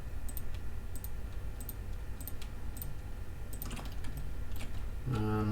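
Keyboard typing and mouse clicks from a computer during 3D retopology work, a steady run of light taps and clicks over a constant background hum, ending in a brief tonal beep.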